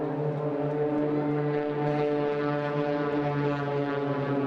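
Propeller aerobatic display aircraft of the Blades team fly overhead at the Eastbourne Airshow, a steady droning engine tone with strong harmonics, moderately loud and holding throughout, with no talk.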